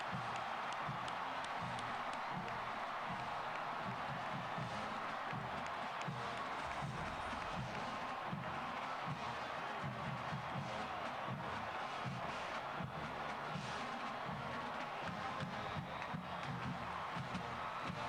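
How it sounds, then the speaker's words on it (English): A large college football stadium crowd at Kansas State versus Oklahoma State in 2007 roars continuously from a distance after a successful kick, a dense wash of cheering and shouting that holds steady throughout. "Listen to that crowd."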